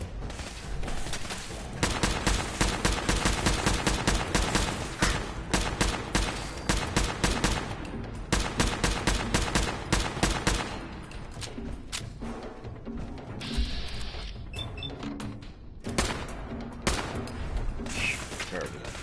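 Rapid, sustained automatic gunfire in the video game Fallout 4: bursts of close, loud shots for about ten seconds, then a pause and further scattered shots, with a person talking partway through.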